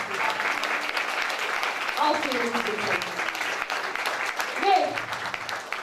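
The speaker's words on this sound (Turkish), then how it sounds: "büyük alkışlarla davet ediyoruz" Audience applauding at a school commemoration ceremony, dense sustained clapping throughout, with brief voices and cheers rising over it.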